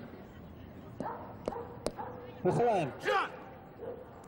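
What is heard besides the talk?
dog barking at a dog training ring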